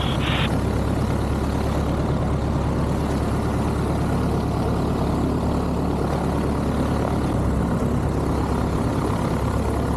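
A small canard-wing aircraft landing on runway 36 right at Oshkosh, its propeller engine droning steadily and loudly throughout with a constant low rumble, no voices over it.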